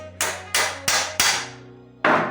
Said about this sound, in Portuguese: aí com o martelo, ó